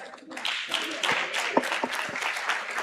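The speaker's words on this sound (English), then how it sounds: "I need another applause." Seminar audience at a Women's Day commemoration clapping briefly, a moderately loud burst of scattered hand claps with a few louder individual claps, heard fairly close.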